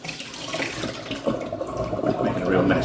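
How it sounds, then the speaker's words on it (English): Clean water pours and splashes out through holes in a large block of clear ice in a kitchen, a steady running, trickling flow with some spattering, continuing for a few seconds. "let that pour all of that water out"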